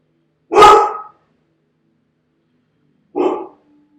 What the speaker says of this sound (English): Sorry, just my dog.